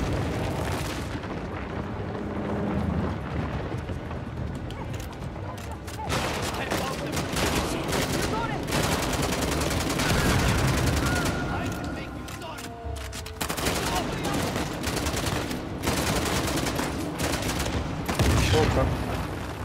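Dense, continuous gunfire and explosions from the video game Uncharted: The Lost Legacy fill the scene, with rapid bursts and booms throughout and a player talking over them.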